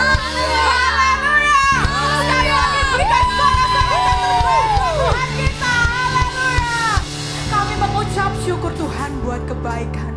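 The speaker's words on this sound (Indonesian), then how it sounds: "Sekali lagi berikan sorak-sorai yang terbaik buat Tuhan kita." A youth church congregation cheers, whoops and shouts praise to God, a dense crowd roar with many high voices rising and falling for several seconds, loud and close.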